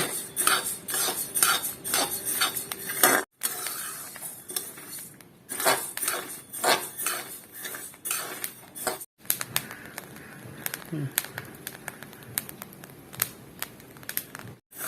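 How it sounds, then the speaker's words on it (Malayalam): Rice roasting in a pan is stirred with a utensil, giving quick repeated metallic scrapes and clinks against the pan in uneven bursts, with brief pauses between strokes. "അരി വറവായി തുടങ്ങിയ ഒരു രണ്ട് മിനിറ്റ് കൊണ്ട് ഇളക്കേണ്ടി വരുള്ളൂ"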